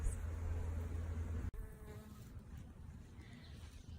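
Honey bees buzz densely around a hive frame, a close, continuous swarm drone with a brief sharp knock partway through, after which the buzzing continues slightly thinner.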